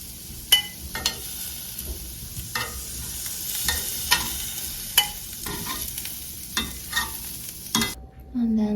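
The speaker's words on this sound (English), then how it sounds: "Now let's grill. Here are the shrimp." Shrimp cooking in a hot pan, a low steady sizzle broken by sharp scraping and stirring clicks every second or so, close and moderately loud, ending with a brief pause and a faint tone.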